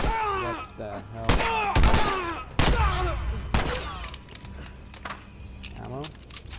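Gunfire in a firefight from The Last of Us, a post-apocalyptic survival game: several sharp shots and bursts crack out loudly in irregular clusters over game sounds, with voices talking and calling out between them.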